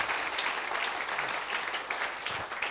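A church congregation gives a sustained round of applause during a bilingual English-French service, a dense, even spread of many hands clapping together at moderate distance.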